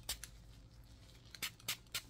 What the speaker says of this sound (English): Yes, it's a spray bottle.